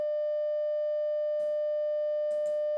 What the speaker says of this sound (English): Don't know if I like that sine wave there